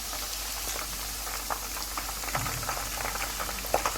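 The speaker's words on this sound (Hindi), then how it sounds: "दरमियानी आंच पे आपने इसको गोल्डन फ्राई करना है।" Honey chilli chicken frying golden in oil over medium heat, heard as a continuous close bubbling crackle and spatter with small irregular pops.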